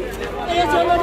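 Crowd chatter at Janpath flea market in Delhi, a continuous babble of many overlapping voices close by, steady and fairly loud through the short stretch.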